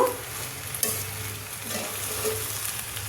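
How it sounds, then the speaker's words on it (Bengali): Sago (sabu) pulao with spices being stirred in a pan, a steady close scraping and soft sizzle running without pause for a few seconds, with no voices. "ভালো করে নাড়তে হবে সাবুটার ভেতরে"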